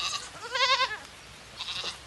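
Pygmy goats at a zoo bleating, a short quavering bleat followed by a fainter second call, fairly distant with no talking.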